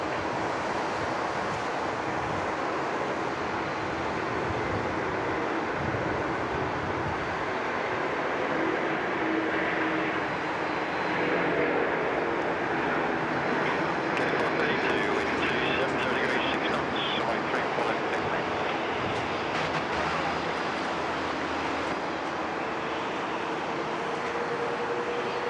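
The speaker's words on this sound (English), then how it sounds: "Nice little double A350 action there out of the China Eastern and China Airlines" Two Airbus A350 airliners, one China Eastern and one China Airlines, roar at a distance in a long, steady broadband rush, with a voice talking over it.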